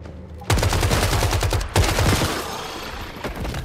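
Bursts of AK rifle fire in the survival video game Once Human, two loud rapid volleys close up with a third shorter burst near the end, no talking.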